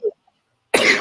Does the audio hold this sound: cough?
yes